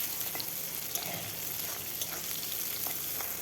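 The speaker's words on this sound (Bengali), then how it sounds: "পেঁয়াজ, কাঁচা লঙ্কা ভালোভাবে ভেজে নেব।" Onion and green chilli with five-spice frying in a pan, a constant close sizzle and crackle with faint scrapes of stirring, no voices.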